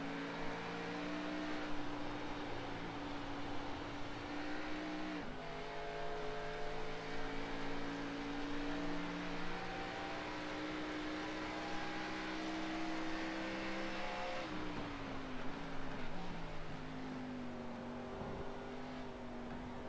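Race car engines drone in a sim racing league event at Watkins Glen, steady high-pitched revving with several gear shifts and pitch drops as cars run close together, no talking.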